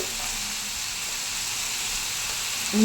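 Boiled clams (eruntu) sizzle in a pan, a steady close frying hiss that runs unbroken, with a brief clatter of stirring near the end.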